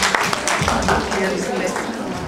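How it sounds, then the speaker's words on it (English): An audience at a talk session applauds in a dense, continuous wash of clapping, loud and steady throughout, with a voice speaking over it. "A big round of applause."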